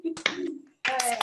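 Hand claps over an online video call, a short burst of claps, then a brief gap and a second louder flurry, with voices talking through it.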